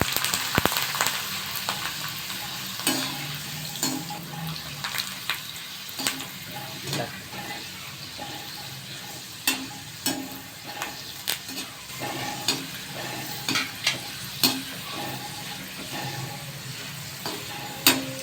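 Dried cluster bean vathal, Chettinad style, fries in hot oil with a steady sizzle, broken by repeated scraping and stirring clinks from a utensil in the pan, close up and with no speech.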